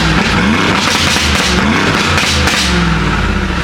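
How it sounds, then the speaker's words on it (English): A loud Mercedes G-Wagon roars past close by on an LA street, its engine note rising and sweeping with a gritty, raspy edge over heavy road noise, continuous throughout. "How does the G-Wagon sound like that"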